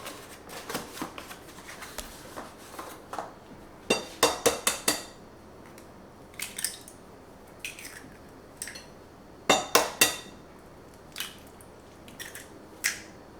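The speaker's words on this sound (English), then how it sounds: "we're going to put 2 eggs in here" Two eggs are cracked into a bowl for pizza dough, heard as close, sharp taps and clinks arriving in small clusters with quiet gaps between them and no voices.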